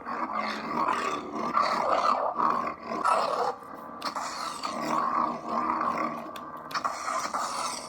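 A lightsaber sound font plays loud, sustained electric humming with sweeping whooshes and swells on accent swings, a few sharp bursts, continuing for several seconds without a break.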